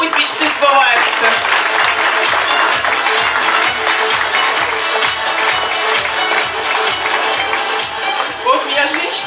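Applause from the audience at a Miss Bikini pageant show, a loud, dense wash of clapping over pulsing stage music that carries on steadily throughout.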